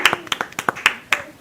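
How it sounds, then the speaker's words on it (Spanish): Audience at a church service clapping to welcome a guest, scattered close claps in an uneven rhythm of about eight sharp hits, fairly loud, with no talk over them. "Un aplauso para Faría."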